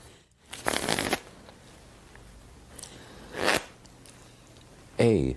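Brisk riffles of a card deck being shuffled, three separate bursts with quiet pauses between, close and fairly loud.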